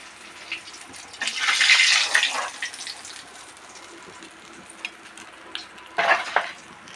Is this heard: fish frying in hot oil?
yes